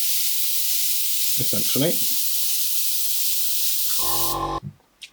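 Airbrush blowing a steady broadband hiss of air across thin, freshly applied paint on a Warhammer miniature, running continuously before cutting off, with a brief spoken word partway through.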